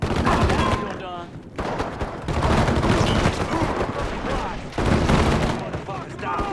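Gunfire in the video game Mafia 3, heard as dense overlapping shots and explosive bursts that run throughout, mixed with shouted voices and combat chatter.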